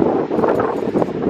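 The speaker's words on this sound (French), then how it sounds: "Et il y a du vent, comme vous pouvez l'entendre." Wind at the seaside in Veulettes-sur-Mer, Normandy, buffets the microphone with a continuous, fluctuating rumble and rustle throughout.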